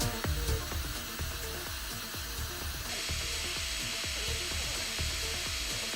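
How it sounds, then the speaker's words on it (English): A hot air gun blows a steady, loud airy roar while heating one end of a PVC pipe, with light ticks and clicks scattered through it. "Use the hot air gun to heat up one end of the PVC pipe."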